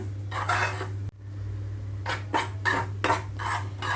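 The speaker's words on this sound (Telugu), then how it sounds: "నేనైతే ఇక్కడ రవ్వని రెండు నుంచి మూడు నిమిషాల పాటు మీడియం ఫ్లేమ్లో ఉంచి వేయించుకుంటున్నాను" Semolina (rava) being dry-roasted in a pan over medium flame for upma, heard as a run of close, repeated scraping and clinking strokes of a spoon against the pan over a steady low hum, with no talking.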